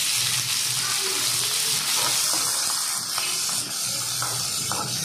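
Chopped onion and green chilies frying in hot oil with tempering spices for a raw pumpkin curry, a loud continuous sizzle with faint stirring scrapes throughout.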